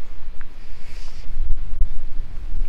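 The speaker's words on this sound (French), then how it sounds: "Ah, il y a trop de vent." Low, rumbling wind buffeting a microphone on a hike in the Ardennes, steady and fairly loud with gusty thumps, no voices.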